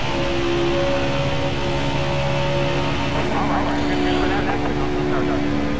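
Race car engine held at full throttle in a NASCAR video game, a steady droning whine that stays loud and unbroken the whole time, with a voice talking over it.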